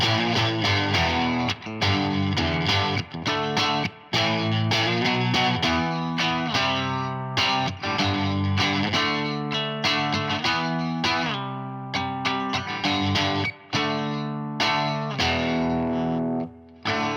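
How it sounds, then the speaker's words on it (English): An electric guitar plays through a Vox AC10C tube amp into a Kustom KPC12 cabinet, giving loud, continuous, distorted chords and riffs with a few brief pauses between phrases and no talking. "This is just straight amp into this cabinet, and it sounds like this."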